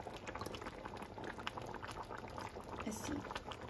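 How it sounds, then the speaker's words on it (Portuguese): A simmering lamb stew bubbles steadily in a pot while a spoonful of vinegar is poured in, a continuous soft boiling texture at close range. "Vou colocar uma colherzinha de vinagre,"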